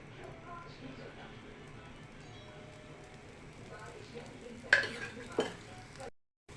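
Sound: dosa frying in oil on a pan

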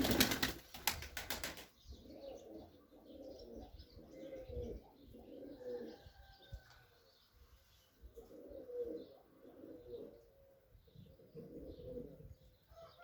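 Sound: pigeons bathing, flapping wings

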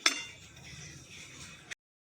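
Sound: date and dry fruit mixture transferred into a metal vessel

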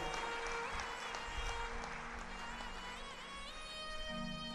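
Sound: audience clapping at a Shiv Mahapuran katha

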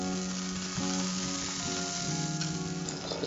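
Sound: chillies, pepper and shallots frying in sesame oil

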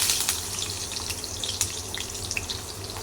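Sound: onion frying in a pan

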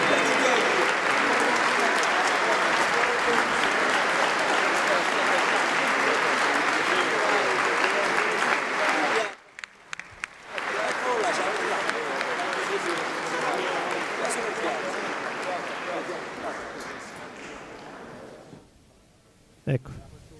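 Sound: applause at ceremony

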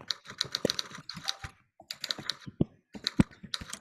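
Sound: children typing on computer keyboards during a typing race

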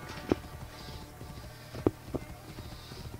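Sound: horse hooves in video game Assassin's Creed Origins

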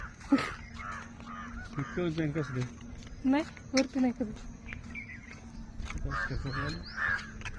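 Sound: crow cawing in a tree at dawn

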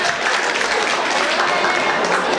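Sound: audience applause

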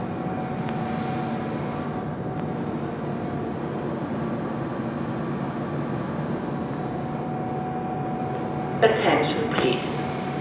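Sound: Railjet train arriving at Villach station

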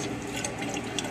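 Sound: water rinsing grit off a polishing plate

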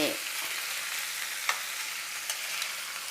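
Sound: stir-frying shrimp with spices in a pan

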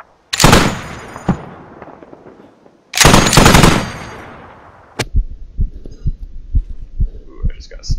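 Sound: gunfire in a video game, player sniped

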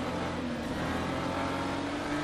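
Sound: BMW race car engine in rFactor 2 video game

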